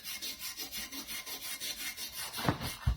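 A coarse scotch pad scrubs the inside of a wheel rim in quick, rhythmic back-and-forth strokes, a close raspy rubbing that repeats evenly, ending with a couple of heavier knocks.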